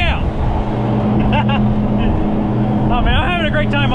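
Jet skis run on rough open sea, a steady engine drone with wind and water noise throughout, and people talk over it.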